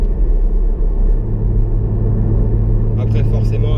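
Porsche GT4 with a 385 hp flat-six pulling on the road, a deep, loud rumbling drone heard from inside that holds steady and swells slightly, with a brief brighter rattle near the end.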